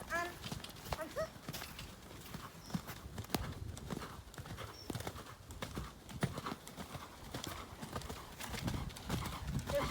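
A horse cantering over ground poles under side saddle, its hoofbeats coming in a steady rhythmic clip-clop at moderate distance, with a brief whinny and a rider's voice speaking faintly in between.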